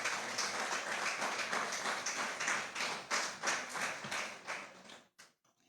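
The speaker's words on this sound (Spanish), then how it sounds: "dale una ofrenda de palmas al Rey" A church congregation claps together as an offering of praise, a loud, fast rhythmic burst of many hands that pulses in waves, then thins to a few scattered claps and stops.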